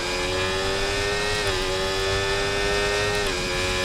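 F1 race car engine in the F1 24 video game, a loud high-pitched continuous whine that holds steady then dips briefly as it shifts gears, alone without talk.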